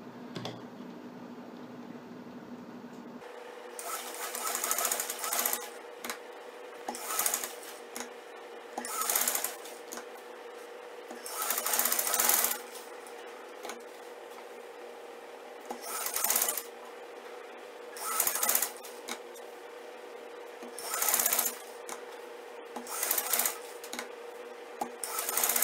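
A sewing machine stitches a Chinese collar in repeated bursts of about a second each. Loud whirring runs alternate with quieter pauses in a steady rhythm, with no talk.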